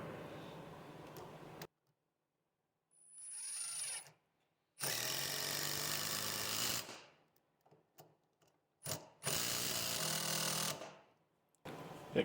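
A Metabo HPT 18V triple hammer drives large structural screws in two long, loud rattling bursts with short gaps and quieter stretches between, close up.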